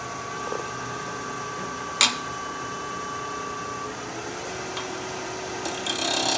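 A 1/2 inch spindle gouge takes a facing cut across a spinning wooden goblet on a lathe, a steady faint scraping hiss with a hum of the machine and one sharp knock.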